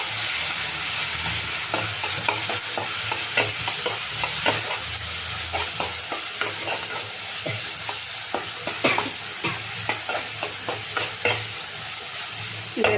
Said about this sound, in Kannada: ಇವೆರಡು ಒಟ್ಟಿಗೆ ಫ್ರೈ ಆಗುತ್ತೆ.